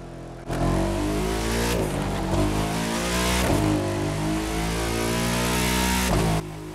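A BMW M8 engine revs in the racing video game The Crew 2, a loud, sustained, growling roar that holds steady with brief dips between gear changes, with no talk.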